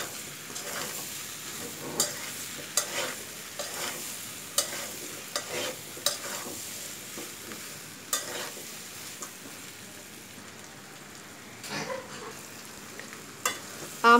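Mango pieces frying with mustard paste in a pan for a sweet and sour pickle, a low sizzle under repeated spoon stirs and scrapes at an uneven rhythm, close by and fairly quiet.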